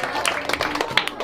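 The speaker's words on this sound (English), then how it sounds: "Everyone applause for AJ" Audience clapping for a young merch winner at a scooter event, a brief patter of scattered hand claps with some overlapping voices.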